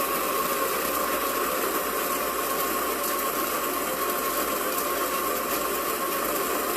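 An electric coffee grinder grinds beans for drip coffee, giving a loud, steady, unbroken whirring roar that holds at an even level from start to finish with no talking over it.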